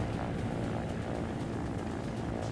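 A helicopter in the building game Trailmakers drones steadily with a dense, even rotor and engine rumble that holds constant throughout, with no talking.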